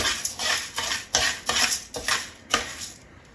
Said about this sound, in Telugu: అన్ని పప్పులు వేసుకొని మంచిగా ఫ్రై చేసుకుంటున్నాను